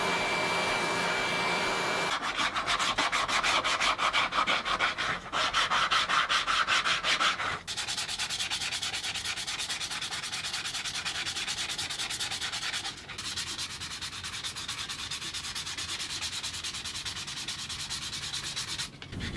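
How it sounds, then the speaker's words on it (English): Rapid rhythmic scratchy rubbing of sandpaper on a wooden bowl by hand, continuous and close, in several bursts with brief pauses between strokes. "And now we're down to just the final sanding."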